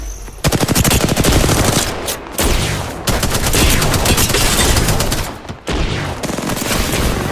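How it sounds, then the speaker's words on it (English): Loud, close video game gunfire during a team shooter match, with sustained machine gun bursts and rapid shots in long runs broken by brief pauses. "I'm getting shot at."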